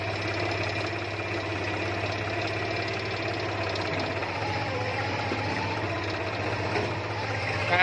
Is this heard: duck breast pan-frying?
no